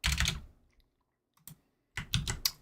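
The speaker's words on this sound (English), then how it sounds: "Oh yeah, and of course typing ASMR." Typing on a computer keyboard during a livestream, quick clusters of crisp key clicks in short bursts separated by brief pauses, close and fairly quiet.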